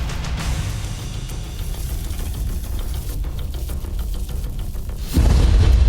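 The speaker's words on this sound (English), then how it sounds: "It's the sound of escaping gas, feeding the fireball, incinerating the deep-water horizon." A massive roaring fireball fed by escaping gas on the burning Deepwater Horizon offshore oil rig, a continuous deep, loud rumble that surges even heavier near the end.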